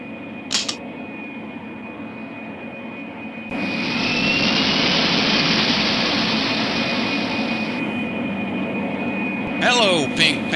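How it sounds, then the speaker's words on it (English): A jet airliner takes off in the 1995 Pink Panther: Passport to Peril game, a steady engine hum swelling into a loud, sustained roar of thrust that holds for several seconds before easing back, with brief clicks at the start and end. "We're next on the runway to take off."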